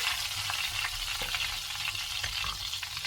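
Cumin seeds sputter and crackle in hot oil in a clay cooking pot, a steady dense frying sizzle close by with scattered small pops, no voices.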